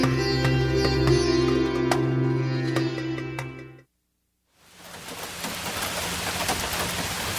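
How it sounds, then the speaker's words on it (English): Steady rain drums on a tin roof, a dense broadband patter that breaks into a brief silence and then resumes. Tonal music-like layers ride under the first half of the rain. "the sound of rain falling on a tin roof"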